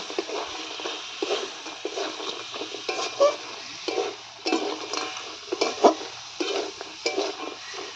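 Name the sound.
fried shrimp legs being stirred and fried in spice masala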